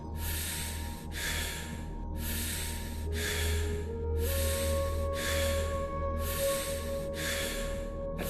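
Steady, deep breathwork breathing during a guided breathing meditation, with eight loud, rhythmic breaths in quick succession, each a broad whooshing inhale or exhale over a low, constant background hum.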